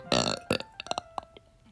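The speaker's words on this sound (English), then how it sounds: "That burp" A loud, close burp rumbles out in one long opening belch, then a second shorter one, trailing into a few small clipped vocal bursts.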